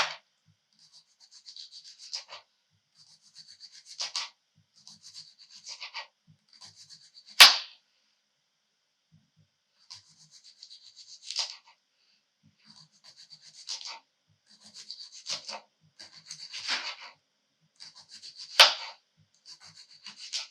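A knife slices by hand through a wide cucumber on a cutting board, producing repeated crisp short cuts in irregular bursts with quiet gaps, close and fairly faint, with a couple of sharper knocks.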